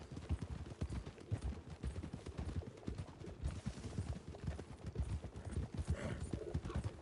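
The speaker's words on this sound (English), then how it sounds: "cavalo" A horse galloping in Red Dead Redemption 2, rapid rhythmic hoofbeats thudding steadily and close for several seconds, with faint background game sound.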